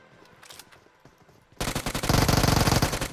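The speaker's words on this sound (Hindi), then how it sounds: "अब चारों तरफ से गन फाइट के साउंड तो मुझे आ ही रहे थे" Rapid automatic gunfire in the BGMI battle royale game bursts in loud and close after a quieter stretch of scattered distant shots, continuing as a dense rattling stream.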